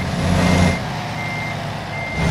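Steady electronic reversing beeps from a truck backing up in American Truck Simulator, repeating at an even rhythm over a low engine rumble.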